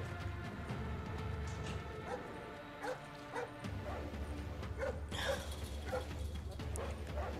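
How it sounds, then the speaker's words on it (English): Guard dogs bark in the stealth video game Splinter Cell Blacklist, with repeated barks and yips over a steady low game background and someone talking at times. "How do I stay away from the guard dogs?"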